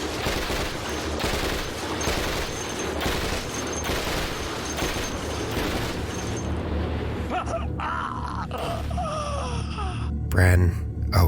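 Gunfire in Cataclysm: Dark Days Ahead inside a lab, rapid continuous volleys of shots fill most of the stretch, then break into scattered bursts and a heavy boom, with a voice talking throughout.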